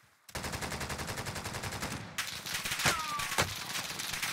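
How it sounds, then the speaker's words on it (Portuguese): Rapid automatic gunfire rattles continuously in Call of Duty: Warzone, then a short pause before more bursts and a couple of louder single shots. "tiraram uns tiros outros"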